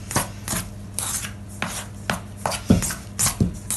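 Pastry dough of flour, egg yolk and a little water being worked by hand in a kitchen, giving close, irregular soft thuds and rubbing scrapes in uneven bursts, with no talk.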